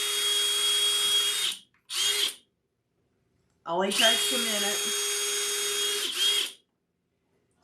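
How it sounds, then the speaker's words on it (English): A small drill bit bores through a wooden Easter bunny door hanger in close, loud bursts: a steady whine of about one and a half seconds, a quick short burst, then a longer run of nearly three seconds, with brief talk between. "So I'm just going to drill this."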